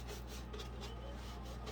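Continuous dry rubbing and scraping of a pointed brush applying black wax over a wooden cupboard surface, steady and close, with no voices.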